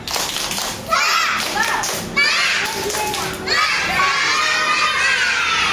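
A group of schoolchildren in a classroom shout a spirited clap chant together, loud and energetic, in bursts with a few thumps and a short pause before the voices swell again.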